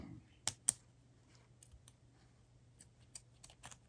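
Scissors snip the tail of yarn on a knitted piggy plush made with a circular knitting machine, giving two sharp close cuts near the start and then lighter scattered clicks in a quiet room.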